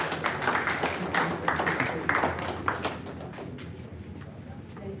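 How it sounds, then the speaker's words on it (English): A crowd at the English Greyhound Derby final draw event applauds the connections of New in Session: a burst of clapping that is strongest early, then thins and fades toward the end, moderately distant. "Ladies and gentlemen, can we have a big round of applause for the connections of New in Session?"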